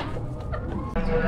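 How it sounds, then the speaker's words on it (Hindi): A mother hen sits over her chicks, giving soft, low clucks that run steadily and close by through the short moment with no one speaking. "मामा चिकन है अपने सारे चूजों को अपने नीचे लेके बैठ गई है"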